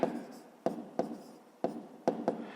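Handwriting of numbers with a pen on paper: a few sharp strokes and taps at irregular spacing over soft scratching, close and fairly quiet.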